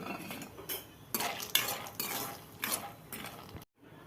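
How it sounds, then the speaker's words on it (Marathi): A spoon scraping and stirring edible gum and peanuts as they roast dry in a pan, quiet repeated metallic scrapes and clinks in an uneven rhythm, with no talking. "आणि थोडे हलके हलके शेंगदाणे भाजूया।"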